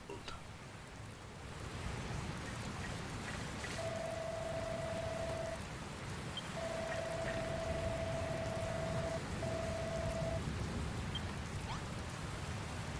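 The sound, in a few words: stormy rain at sea in the video game Dragon Quest Builders 2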